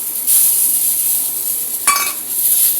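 Chopped onion fries in oil with ginger garlic paste, producing a strong continuous hiss and sizzle up close, with a brief clink of a utensil against the pan partway through.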